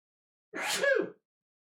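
A single sharp sneeze, close and fairly loud, standing alone in otherwise near silence.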